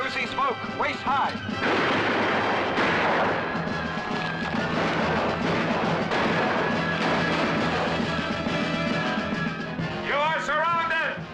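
A volley of musket fire from soldiers hidden in woods, heavy crashing reports and rolling smoke-filled gunfire sustained for several seconds, loud and close, with shouting voices at the start and end.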